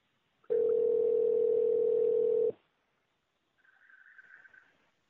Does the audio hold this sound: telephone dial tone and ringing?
yes